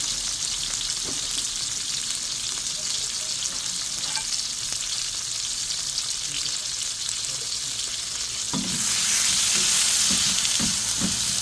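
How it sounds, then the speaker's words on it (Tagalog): Sliced onion sizzling and frying in a pan already used for salmon, a steady close hiss of hot oil with occasional stirring clatter, growing louder near the end as the onions are moved around. "So sa the same pan guys, lagyan na natin ang ating sibuyas, onion."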